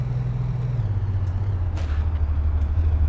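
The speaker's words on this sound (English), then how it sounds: "Perfect handbrake turn." A van's engine in the video game Big Ambitions holds a low steady drone that drops in pitch partway through a handbrake turn, with a faint brief hiss, continuous and close, with no voices.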